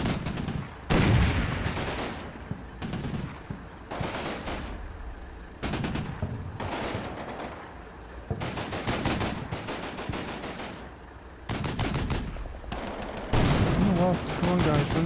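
Machine guns in Combat Mission: Battle for Normandy rattle out repeated rapid bursts of fire, loud and close, interspersed with other battle noise and a commander's voice talking between volleys.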